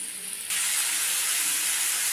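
Tomatoes hit a hot pan with bitter gourd for a Tamil pavakkai thokku, and a sudden, loud, bright hiss of sizzling rises and stays steady and close.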